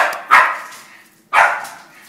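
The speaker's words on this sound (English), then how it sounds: "there go the dogs fighting over a chewy bone" Dogs scuffling over a chewy bone in a backyard during grilling, giving two sharp, loud barks about a second apart, each trailing into a short growl.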